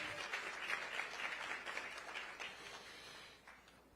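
Another round of applause at a UNCF presidents' town hall, a steady crowd of many hands clapping together, fairly faint and distant, tapering slightly toward the close with no speech over it.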